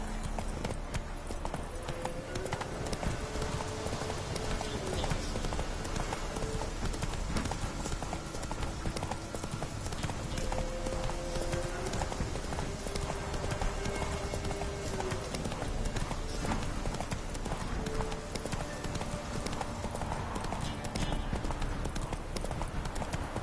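Horse hooves galloping in The Witcher 3, a fast continuous clip-clop rhythm that stays loud and steady throughout, with faint background sound underneath.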